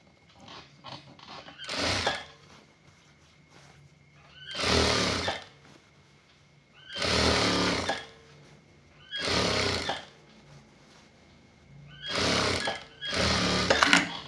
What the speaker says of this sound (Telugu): మరలా దీని మీద ఇంకో కుట్టు వేయండి